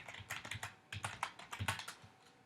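Quick irregular clicks of keys being pressed on a computer keyboard while a password is typed during a Java tools install, close and alone, in short bursts with brief pauses.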